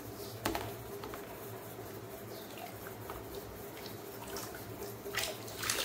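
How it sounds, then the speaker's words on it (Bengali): Water is poured over a doll at bath time, a faint, steady trickle and splash with a few brighter splashes near the start and end. "দেখি জল ঢাল, জল ঢাল।"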